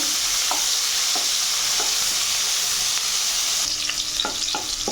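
Onion fries in a pan over medium flame until it turns brown. A constant loud sizzle runs throughout, broken by occasional spatula scrapes and stirring taps, and a few quick clicks come near the end, with no voices.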